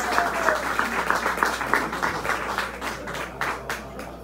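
Audience applause for the Serenata del Café performers at a live show, a dense burst of clapping that slowly thins and fades over a few seconds, with a voice faintly underneath.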